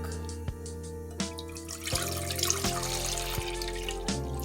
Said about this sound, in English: to a pot on medium-low heat, we're going to add in our milk